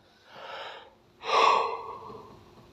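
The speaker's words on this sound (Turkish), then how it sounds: "bir esneme tuttum yani de." During a Quran study lesson, a person yawns up close: a breathy intake, then a louder, drawn-out voiced exhale that slowly fades, with no speech.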